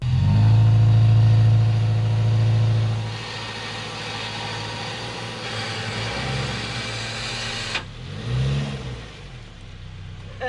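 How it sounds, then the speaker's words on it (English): Subaru Forester engine with a loud exhaust, its system pressed against the car's underside; idles loudly with a droning tone, then settles lower with a couple of brief revs near the end, close and alone. "The exhaust got louder because the ground was pushing the exhaust system against the bottom of my car."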